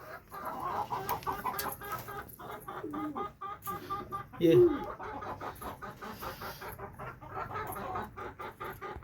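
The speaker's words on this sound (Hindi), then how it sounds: "सारे हमारे जो कबूतर अभी बाहर आ रहे हैं, हमारे पड़ोसियों के भी कबूतर आए कुछ कुछ।" Domestic pigeons, the keeper's own and some from the neighbours, gather to be fed grain one by one, their soft coos and wing flutters close by while someone talks over them.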